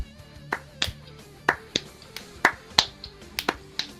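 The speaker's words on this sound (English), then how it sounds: "Look, clap it out, people. Come on." Sharp, scattered claps or snaps from football fans clapping along, at an uneven rhythm, close and alone with no talk over them.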